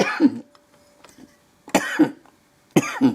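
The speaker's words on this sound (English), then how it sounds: "I'll wait till I stop coughing" Three harsh coughs from one person in a workshop, spaced about a second apart, close and loud, with quiet pauses between them.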